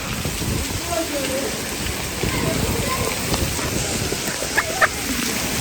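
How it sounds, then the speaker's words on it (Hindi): Heavy rain pours down steadily in a village, a dense continuous hiss with a few drips and splashes near the end; someone talks over it. "इतनी तेज़ बारिश लगी हुई है, कैमरा नज़र कुछ नहीं आ रहा।"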